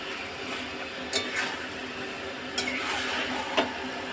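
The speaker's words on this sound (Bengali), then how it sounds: "মাংসের সাথে মশলাটাকে ভালো মতন আবার কষাবো" Goat meat sautéed with spices in a pan, a continuous soft frying hiss broken by three brief scraping stirs, close and fairly quiet with no talking.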